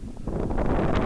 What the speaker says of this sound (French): Alors qu'on voit que le vent souffle